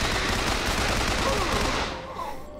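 An assault rifle in Bioshock Infinite fires as a dense, rapid burst of gunshots, loud and close, then cuts off and tails away into quieter reverberation.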